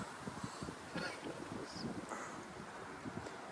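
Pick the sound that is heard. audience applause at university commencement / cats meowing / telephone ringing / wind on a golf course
wind on a golf course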